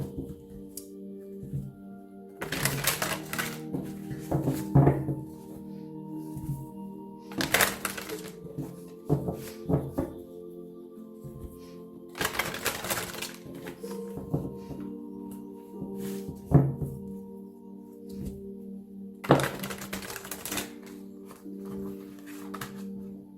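Tarot cards are shuffled by hand in several bursts of rapid papery riffling and tapping, separated by quieter gaps with a steady faint tone underneath.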